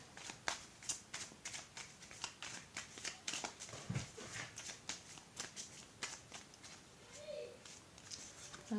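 Tarot cards are shuffled and drawn in a quick series of soft riffling flicks and papery slaps, close and quiet, in a steady uneven rhythm with a faint murmur underneath.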